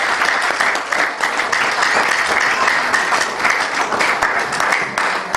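A church congregation breaks into steady, sustained applause during a worship service, dense clapping filling the room at an even level for several seconds.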